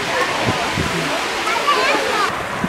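A waterfall in Capitólio, Brazil, gives a steady, close, broadband rushing roar of falling water over rock, with a voice speaking faintly underneath.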